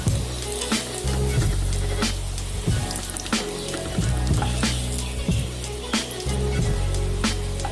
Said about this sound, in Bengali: হয়ে গেছে পটল ভাজি, এখন তুলে নিচ্ছি